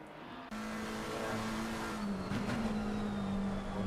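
Race cars on a wet track in a racing video game at Oulton Park, a steady engine drone with a sustained tone and a brief tire scrub midway, no voices.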